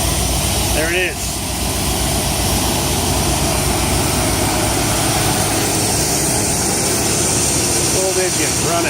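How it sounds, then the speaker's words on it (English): Cold Pontiac 301 turbo V8 with Megasquirt throttle-body fuel injection idling rich, a loud, steady, dense engine drone filling the whole stretch, with someone speaking briefly over it near the start and end. "Old engine running."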